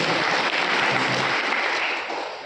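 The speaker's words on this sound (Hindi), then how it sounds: "एक बार जोर से ताली बजाए" An audience at a spiritual gathering claps loudly and densely, a steady roar of many hands that fades slightly at the end, with no voices over it.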